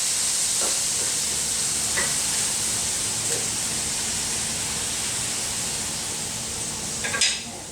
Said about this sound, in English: This is going to help to steam that broccoli.